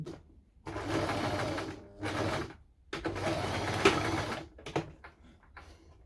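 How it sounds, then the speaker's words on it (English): A sewing machine runs a zigzag stitch along the opening of a homemade skirt, buzzing in several loud bursts separated by brief pauses, close up, with no talk. "I'm just going to be running a zigzag stitch on it, on the opening."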